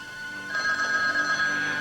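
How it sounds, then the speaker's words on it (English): Telephone on a private line rings with a bright electronic trill that starts softly and swells, steady and alone, with no talking. "Now, if you'll excuse me, Claire, I'd like to answer the phone on my private line"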